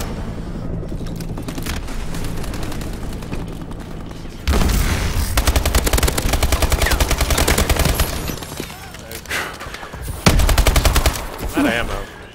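Rapid first-person shooter gunfire in a Hardpoint match: sparse shots at first, then dense, loud bursts of automatic fire with sharp cracks and booms, and voices talking faintly underneath.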